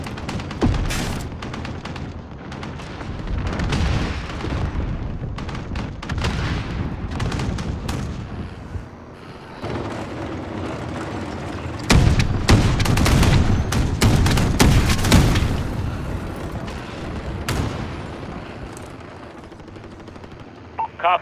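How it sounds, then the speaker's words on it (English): Cruise missile strike in the video game Call of Duty Modern Warfare, Ground War mode at the Port of Veransk: loud, dense bursts of explosions and rapid gunfire roll over each other for about twenty seconds, with brief dips between heavy blasts. "Allied cruise missile away."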